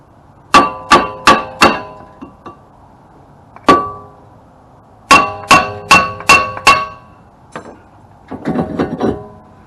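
A hammer taps on a seized brake caliper of a Ford Mustang during a brake job, giving sharp metallic clangs in quick bursts of four and five with short pauses, close and loud, with no talking.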